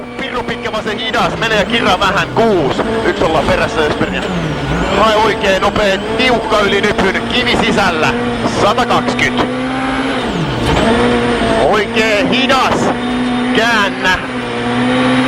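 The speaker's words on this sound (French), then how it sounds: "Ça patine un petit peu plus à la réaccélération, la voiture qui part un peu plus en travers." A rally car at the 2011 Swedish Rally on snow and ice slides sideways, wheels spinning, then re-accelerates with repeated loud engine revs and gear changes, close and continuous, under talk.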